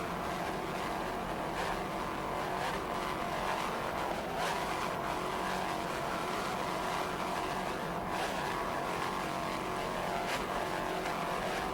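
A 41-foot Apache offshore racing powerboat, Island Runner, races at a 1993 Fort Lauderdale offshore event, its engines a distant steady roar mixed with wind and water rush, no voices.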